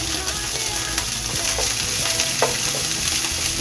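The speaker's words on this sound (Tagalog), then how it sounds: "Igisa na natin yung bawang." Garlic sautés in a hot pan for pancit bato, a steady broadband sizzle with a few sharp stirring scrapes and clicks, close and continuous with no talking.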